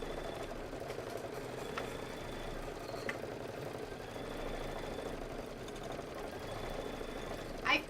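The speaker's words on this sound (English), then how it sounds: "we are just stitching away" A sewing machine runs steadily while stitching quilt tiles for a table topper, a constant mechanical whir with faint rhythmic clatter and a short louder knock near the end.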